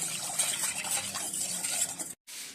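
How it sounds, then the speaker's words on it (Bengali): A spoon stirs and mixes eggless cake batter in a bowl, a continuous soft scraping and swishing close by, cut by a brief pause near the end. "এবার এটা ভালো করে মিশিয়ে নেব 3 থেকে 4 মিনিট মতো।"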